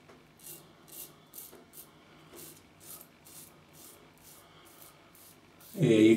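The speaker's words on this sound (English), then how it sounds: "you can feel the blade with this razor" Razor blade shaving, a rhythmic series of soft rasping strokes repeating about twice a second, close, ending in a brief louder burst of running water.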